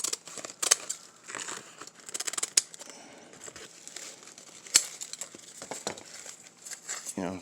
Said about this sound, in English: just take a pair of scissors and start cutting this stuff